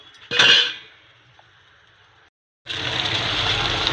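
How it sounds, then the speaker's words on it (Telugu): Moong sprouts boiling in a pot on the stove: a sharp metallic clink of the pot, a brief hush, then a steady, close rushing bubble of boiling water that continues to the end. "ఉడుకుతున్నాయి కదండి స్ప్రౌట్స్ని"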